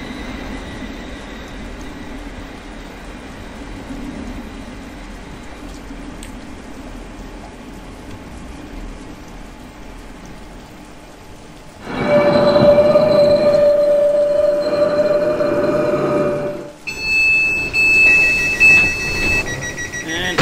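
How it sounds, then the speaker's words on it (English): A class 444 electric train in Train Simulator 2019 on the South Western Main Line rumbles past, a low rolling drone swelling into a louder rush with a sustained squealing tone, then a clattering burst as it passes. "I can hear class 444 going to London Waterloo."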